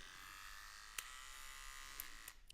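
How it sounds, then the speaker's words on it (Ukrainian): A Rowenta TN5224E0 hair clipper and trimmer hums at a steady, faint, thin buzz, with a couple of light clicks along the way, and no voices. "Тример має декілька рівнів потужності."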